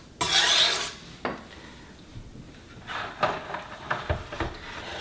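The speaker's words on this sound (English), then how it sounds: "You just want to work through grinding that edge down, getting all of those little burrs and extra dull spots." Quiet scraping strokes of a knife edge being ground on a sharpening stone, a longer rasp at the start followed by shorter, uneven rubs and light taps.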